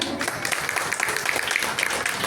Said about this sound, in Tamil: கைத்தட்டுங்கள், வரவேற்போம்